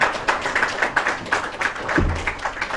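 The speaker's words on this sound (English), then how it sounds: "Please welcome him with a big round of applause." A modest round of applause at an official meeting welcomes a speaker, with irregular individual claps at close range rather than a dense roar, and a brief thump midway.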